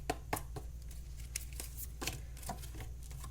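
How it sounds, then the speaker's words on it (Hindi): Tarot cards being drawn and handled from a deck during a reading, giving soft papery taps and rustles at a steady pace over a low constant hum, with no voices. "नेक्स्ट मैं कार्ड्स निकाल देती हूँ और आपको एक्सप्लेन करती हूँ।"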